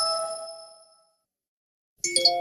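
Phone reminder chime in a radio ad: a bright ringing tone decays into silence, then a second, clustered chime starts sharply near the end, clean and close with no talk.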